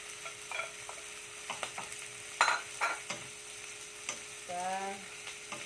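Squid cooking in a pan for Filipino adobong pusit, a low steady sizzle under scattered utensil scrapes and knocks, ending with a brief squeaky scrape.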